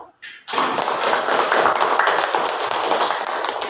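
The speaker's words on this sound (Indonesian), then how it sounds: "Jadi tepuk tangan dulu lah" A group of students claps together in a classroom, a dense burst of hand claps that starts sharply and keeps up steadily for a few seconds.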